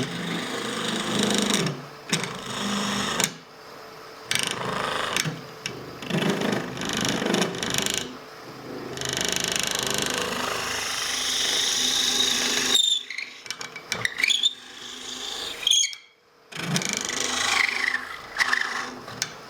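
A spindle gouge drills into spalted beech spinning on a wood lathe, giving bursts of loud scraping and whirring cut by brief pauses, close by.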